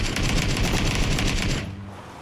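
Automatic gunfire in the video game PUBG, a loud, dense stream of rapid shots lasting about a second and a half before cutting off abruptly.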